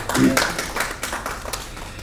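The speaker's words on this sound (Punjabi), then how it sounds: "ਇਹਦੇ ਲਈ ਵੀ ਤਾੜੀਆਂ" Scattered claps from an audience at a Punjabi poetry and music program, a few sharp hand claps at irregular intervals mixed in with nearby talking.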